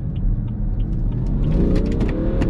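A BMW 330d Touring diesel estate pulls away hard from inside the cabin, a deep steady engine rumble rising under acceleration with a faint rising whine and occasional clicks.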